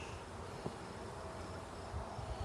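A faint, steady buzzing hum of a huge honeybee colony, continuous and low, with no voices.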